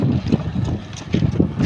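Steady wind buffeting the microphone in low, rumbling gusts at the port of Carigara, Leyte, with faint water and harbor ambience underneath.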